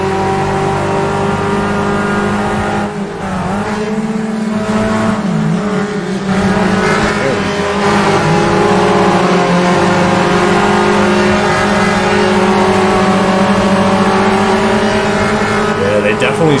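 A Volkswagen Passat races at Cascavel Circuit in the sim game Automobilista 2, its engine droning loud and steady with shifting revs and brief tire squeals, with faint talk beneath.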